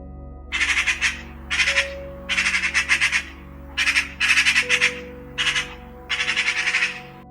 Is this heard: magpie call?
yes